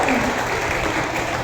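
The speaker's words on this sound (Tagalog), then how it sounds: "Kumukunti na po yung mga palakpak nyo." Congregation applause at a live church worship service, steady and fairly loud clapping filling the whole short stretch while names are read out, with no voice heard over it.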